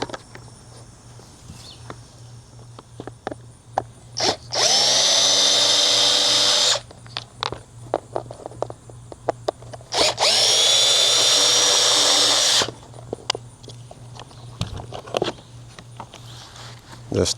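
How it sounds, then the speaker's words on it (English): A power drill whirs in two sustained bursts of about two seconds each, driving Phillips-head screws out of the lower door panel of a 1974 Chevy Caprice, with small clicks and handling noises between the runs. "Let me get my drill, then we'll take these screws off."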